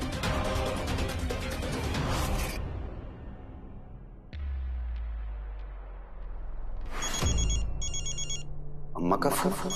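A telephone bell rings in short repeated bursts, loud and close, after music and a low rumble.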